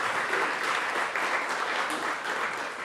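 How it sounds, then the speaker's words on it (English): A conference audience applauds and cheers after an opening address by New Zealand's finance minister, a continuous, moderately loud wash of clapping from a large room. "Thank you, Richard Benj, for leading the cheering there"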